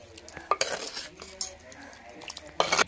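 Chicken handi stirred in a pot with a utensil, a few short scraping and clanking bursts against the metal over a faint sizzle, close and clear.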